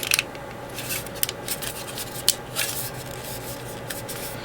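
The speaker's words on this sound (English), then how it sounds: "I sand this down over here because there's a nub." Someone sands a small nub off a plastic Bandai model kit part, a quiet dry scratching with brief sharp rasps and clicks spaced unevenly over a steady background hiss.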